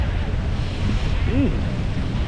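Steady broadband wind and surf roar blankets a Pacific beach on a misty, foggy day, continuous and loud, with a brief tonal sweep from a voice or gull rising midway.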